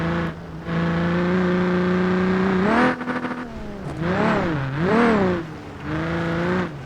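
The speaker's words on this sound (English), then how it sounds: "Every engine's unique, and this one's definitely unique." A Baja off-road vehicle's engine revs up close and loud, with a steady droning idle followed by a few rising and falling rev swells. No one speaks.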